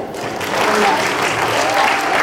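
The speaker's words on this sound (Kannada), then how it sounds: "ಇನ್ನೊಂದು ರೌಂಡ್ ಚಪ್ಪಾಳೆ" An audience claps at a Rajyotsava cultural stage event just after a Sandalwood medley performance is announced, a dense sustained round of applause that swells slightly and holds steady, loud and close.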